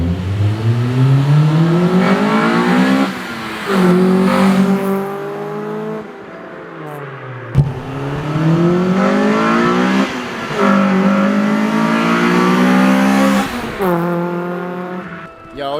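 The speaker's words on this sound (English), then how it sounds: "I'm gonna show you guys some fucking flybys of David's car" A Honda Civic EK4 with a full custom exhaust makes repeated hard-revving flybys, the engine note climbing through the gears and swelling loud as it passes close, then easing off between runs.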